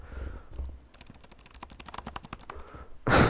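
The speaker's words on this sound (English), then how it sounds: "Just did some fake typing sounds if y'all heard that." Rapid clicking of computer keys in a fast burst of keystrokes, close up, followed by a brief rustle at the end.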